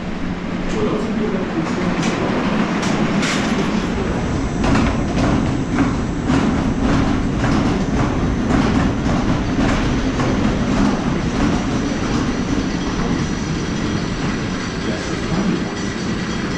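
A roller coaster train at Lagoon amusement park roars steadily along its track with continuous rumbling and rhythmic clatter, loud and close from the back seat, with faint voices underneath.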